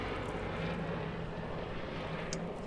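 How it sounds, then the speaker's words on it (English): A continuous low helicopter rumble hangs overhead, steady and moderately distant, with faint outdoor background noise. "That's a helicopter."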